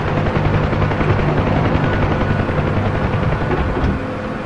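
UH-1 Huey helicopter engine in the DCS flight simulator, a loud steady rotor and turbine drone with a throbbing low beat that eases slightly near the end.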